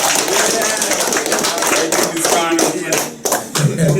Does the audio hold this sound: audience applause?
yes